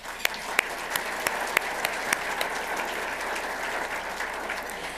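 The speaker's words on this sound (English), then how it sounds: "so let's give them a round of applause." Audience applause at an American Red Cross awards breakfast, a sustained wash of clapping from a roomful of guests, with a few louder individual claps standing out nearby.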